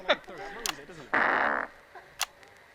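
A person blows a short, buzzing fart imitation with the mouth, a single raspy burst of about half a second between stretches of talking.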